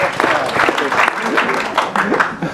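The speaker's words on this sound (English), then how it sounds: "Now that gets a round of applause, eh?" An audience at a film screening and interview event in Stockholm breaks into a round of applause, with clapping mixed under voices and reactions from the crowd.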